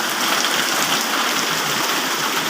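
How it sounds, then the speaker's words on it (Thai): Heavy rain pours down steadily during a storm at a pond, forming a dense, continuous hiss that stays loud and unbroken throughout, with no voices. "ฝนตกหนักนะครับ"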